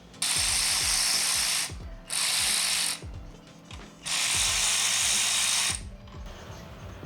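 A ratchet wrench clicks rapidly in long bursts as bolts are backed out of the lower frame of a 2025 Triumph Bobber motorcycle, loud and close with brief pauses between runs.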